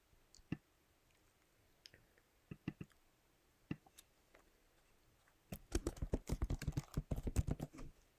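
Keys on a computer keyboard are tapped while someone types code, first as a few scattered soft clicks and then as a quicker dense burst of clacking close by.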